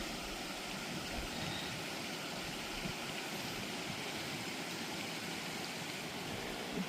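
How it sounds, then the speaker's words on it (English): A snowmelt creek runs straight off the mountain along the Pacific Crest Trail, a steady, unbroken rush of water close by that fills the whole time with no voices. "It's a good spot to see the snow melt creeks."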